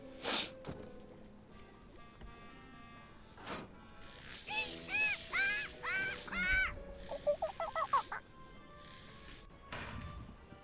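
Cartoon parrots in the Tales of Monkey Island adventure game squawk and honk in a rapid burst of raucous, warbling calls mid-scene, framed by thumps and quieter background sounds.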